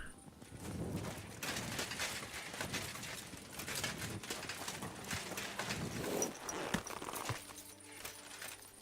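Horse hooves walking in the medieval game Kingdom Come: Deliverance II, a continuous rhythmic clip-clop of a ridden horse under a dense bed of ambient game noise, steady throughout.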